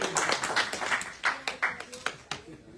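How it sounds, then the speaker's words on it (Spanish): A church congregation clapping in praise of Jesus, loose irregular handclaps near and fairly sharp, with bursts of talk mixed through. "Den un aplauso a Jesús, porque Él merece el reconocimiento"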